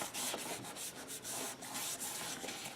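Paper rubbed firmly against the hinge of a G45 Couture mini album, a steady close scratchy sanding texture in several continuous strokes with brief pauses, no talking.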